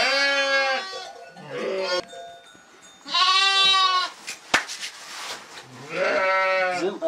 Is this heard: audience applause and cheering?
no